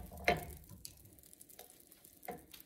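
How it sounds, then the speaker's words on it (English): Asparagus sautéing in about a tablespoon of butter in a pan, a quiet, faint sizzle with a few soft clicks and taps of a utensil. "Just saute it in butter"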